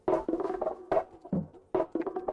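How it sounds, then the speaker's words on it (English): A percussion loop sampled from Machine, played alone as a short repeating pattern of punchy hits with a clear, steady rhythm, close and moderately loud. "this percussion loop from Machine"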